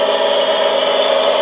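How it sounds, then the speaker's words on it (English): A John Deere 8420 tractor engine sound file plays through an RC model tractor's sound module, a steady, loud, close droning hum with no variation over a short stretch, no voices. "that's a John Deere 8420, if anybody wants to know"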